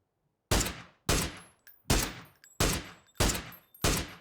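Six loud, sharp sniper rifle shots from an SLR in PUBG, fired at a steady pace about every two-thirds of a second, each crack trailing off into a short decaying echo, with no talking.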